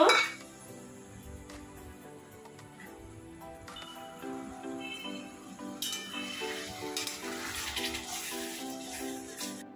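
Bengali spice paste sautés in a pan with a little water, making a soft, low sizzle under clinks and knocks of utensils against cookware.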